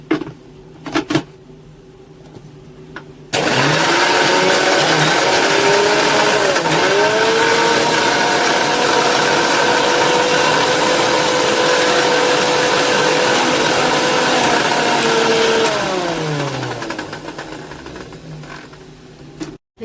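A kitchen mixer grinder purees soaked urad dal with a little water, its loud, steady motor whine starting a few seconds in and holding strong for about twelve seconds before tapering off, with pitch dips as the wet batter churns.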